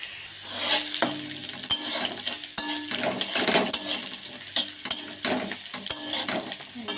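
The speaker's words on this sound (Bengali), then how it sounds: "পেঁয়াজটা ভাজা ভাজা হয়ে গিয়েছে" Sliced onion sizzles in hot oil with a clove and a split cardamom pod, while a spoon stirs and scrapes against the pan in irregular close clatters. The steady frying hiss continues throughout, and no one speaks.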